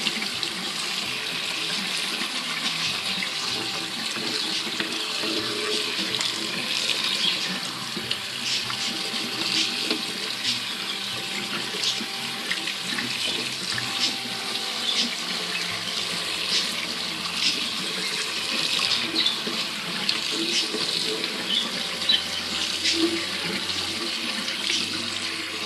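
Cold water runs steadily from a tap while seeds for sprouting are rinsed clean. The hiss and splash are continuous and moderately soft, with small variations as the water moves over the seeds and there is no talking.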